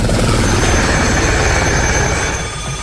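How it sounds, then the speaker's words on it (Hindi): Helicopter flying over a glacier, a loud, dense, continuous rotor and engine roar close by, steady throughout and easing slightly at the end. "हेलीकॉप्टर सुबह से ही ग्लेशियर पर उड़ान भरते रहे हैं।"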